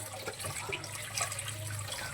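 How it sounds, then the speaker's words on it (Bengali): Tap water running over soaked urad dal in a large strainer, a steady close rush of splashing water with no pauses. "এইভাবে জল ছেড়ে দিয়ে দেখো খুব সুন্দর করে এর ভেতরে যে ফেনা ভাবটা ছিল সেটা কিন্তু একদম থাকবে না"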